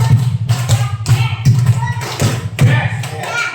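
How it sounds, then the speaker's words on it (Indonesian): Rhythmic hand claps in a school gathering, two quick sets of five, sharp and close, evenly spaced with a steady patter of group clapping. "2 kali tepuk 5."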